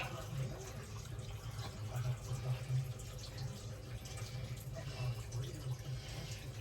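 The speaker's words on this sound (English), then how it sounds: "It's all coming out the drain." Water running out of a BBQ smoker's drain during maintenance, a steady low gurgling trickle that stays continuous throughout with no talk over it.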